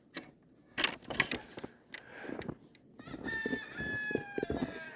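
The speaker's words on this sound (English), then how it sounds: "Chickens and ducks are out." Chickens and a rooster outdoors on a snowy farm yard: sharp clucks and squawks in bursts, followed by a drawn-out rooster crow, fairly close and loud against a quiet background.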